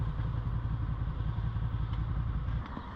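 Motorcycle halted at a gas station on a Canada-to-America ride, its engine idling steadily and close by, with a low continuous rumble and light clatter that eases slightly near the end.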